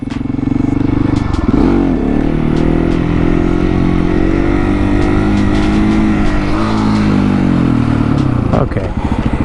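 A motorcycle engine revs loudly and continuously up close during wheelies, its pitch rising and falling with throttle changes, with a voice faintly over it.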